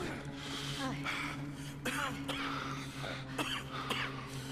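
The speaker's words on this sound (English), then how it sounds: "Oh, the coughing. The coughing." A character in the video game Red Dead Redemption 2 coughing in several harsh, spaced bursts with throat-clearing, close and fairly faint over a low steady hum.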